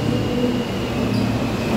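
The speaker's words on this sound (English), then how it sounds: "Our train running on the express track." A New York City subway train on the express track rumbles steadily past, with a loud, continuous low roar and a faint high whine; no voices.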